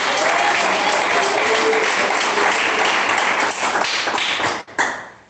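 A church congregation claps together in a loud, dense burst of applause that holds steady, then breaks off abruptly near the end.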